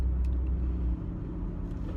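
Inside a moving car, a steady low engine and road rumble fills the cabin, dipping slightly partway through as the ride continues, with no voices.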